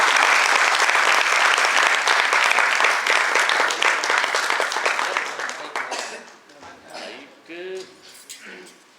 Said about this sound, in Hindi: जोरदार तालियां पूरे ग्रुप के लिए।